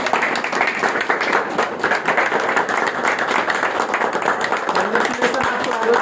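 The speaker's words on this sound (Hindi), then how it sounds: "तालियां बजती रहनी चाहिए" An audience at a celebration claps loudly and continuously, a dense wash of many hands close by, with voices talking over the applause throughout.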